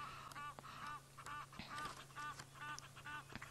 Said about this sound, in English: that noise in the background are very loyal Egyptian geese